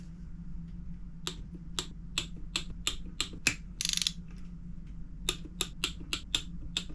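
Torque wrench tightening the stationary gear bolts on a ported 13B rotary engine, heard as sharp, close single clicks in a steady series with one short rattling burst midway.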